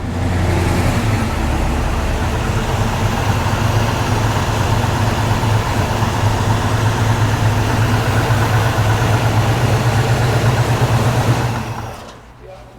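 A Pontiac GTO Royal Bobcat with a factory Tri-Power engine idles loud and close, a steady deep rumble that holds for about eleven seconds before dropping away at the end.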